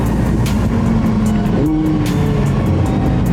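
A Lamborghini Huracan LP 610-4 V10 engine roars loudly and steadily in manual mode with sport exhaust, its pitch climbing as it revs up, with a rough, throaty exhaust note throughout.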